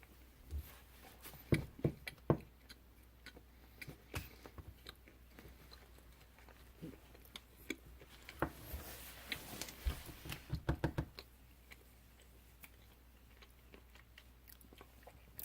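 Close, crisp chewing and biting of an RXBAR protein bar in chocolate and peanut butter flavors, with irregular crunchy bites and soft mouth sounds in a quiet room, and no talking.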